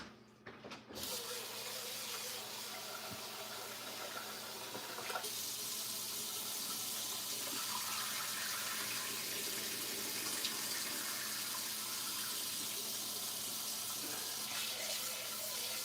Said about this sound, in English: Let me rinse this rice off.